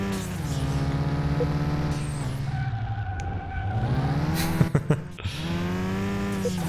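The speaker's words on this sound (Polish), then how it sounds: "Widzę, że poprawili w ostatnim patchu dźwięki samochodów, wobec czego nie jest tu teraz tak głośno" A Mitsubishi Eclipse engine revs on a test track in Car Mechanic Simulator 21, loud rising and falling harmonic whine through several revs with a brief dip, no talking.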